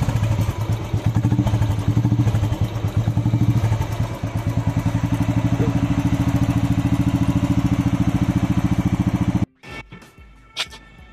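A serviced Royal Enfield Bullet motorcycle idles loudly and close by at a roadside garage in Delhi, its engine thumping in a steady rapid rhythm for over nine seconds before cutting off, leaving a few faint knocks.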